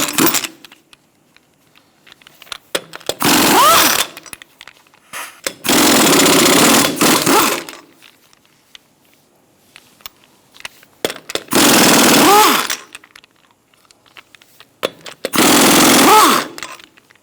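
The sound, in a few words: power tool removing lug nuts on Toyota Camry wheel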